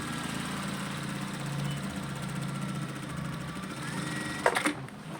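A sewing machine runs steadily while stitching a uniform shirt collar, a continuous close mechanical whir that stops abruptly near the end with a few clicks, no voices.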